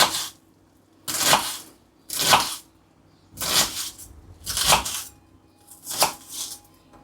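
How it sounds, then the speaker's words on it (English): A kitchen knife slicing garlic and chopping red onion on a cutting board: six separate bursts of rapid blade-on-board chopping, each lasting under a second, with short quiet pauses between them, close and clear. "we're going to peel and finely slice our garlic, and we're going to get our red onion peeled and finely chopped"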